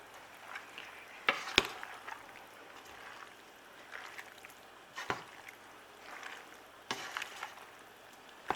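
Frozen broccoli and macaroni being mixed in a pan with butter and olive oil: soft, quiet rustling broken by a handful of sharp utensil clacks and scrapes at irregular intervals.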